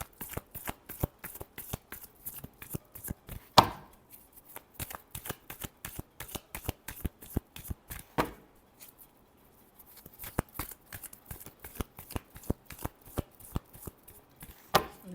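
Rapid riffle shuffling of a deck of playing cards during a tarot-style reading, a dense run of crisp flicks repeated in several bursts with brief pauses between, close and clear with no talking.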